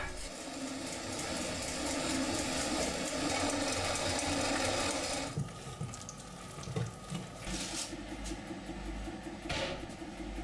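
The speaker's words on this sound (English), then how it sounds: "So I'm gonna grind the grain, and my wife's gonna sift the flour so that we can do it all in one process." A restored traditional hand-operated grain mill grinds wheat with a continuous gritty, rasping churn that runs unbroken for about five seconds, then turns quieter and more uneven, with scattered knocks and scrapes.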